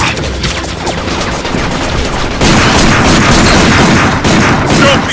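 Sustained machine gun fire roars in Binary Domain, a loud, dense, unbroken barrage that swells further halfway through and keeps going to the end.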